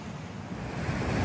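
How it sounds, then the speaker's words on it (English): Big sea waves crash onto the shoreline near Lyme Regis, a loud, steady roar of surf with wind buffeting the microphone, and no voices. "there's still some big waves rifling into Pinay Bay, crashing onto the shoreline"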